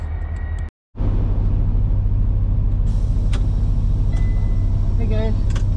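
A truck engine idles steadily with a deep, continuous rumble after a brief cut in the sound, heard close and loud without pause, with an air-brake-like hiss toward the end.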